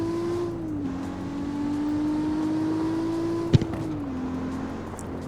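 A stock Toyota Supra engine in the racing game CarX Street holds a steady tone with a slight pitch drop, a sharp click near the middle, then a lower settle.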